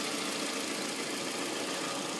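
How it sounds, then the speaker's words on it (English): 2009 Toyota Camry LE engine idling with the hood propped open, a smooth, quiet, even hum heard close up and alone. "The engine is very clean. Runs nice and quiet."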